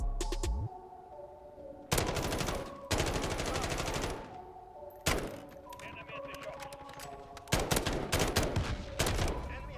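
G36C rifle fire in Modern Warfare, several loud, sharp bursts separated by short pauses, with a voice talking between them.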